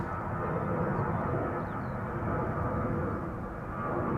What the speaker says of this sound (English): This was KLM flight 1199 to Oslo.